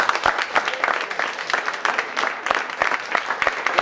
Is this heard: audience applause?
yes